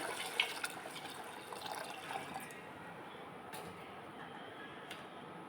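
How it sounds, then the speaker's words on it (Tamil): Water poured into a pressure cooker holding roasted cowpeas with onion, green chili, tomato and garlic, a soft steady splashing and trickling fill close by, without talk. "தேவையான அளவு தண்ணி ஊற்றிக்கலாங்க."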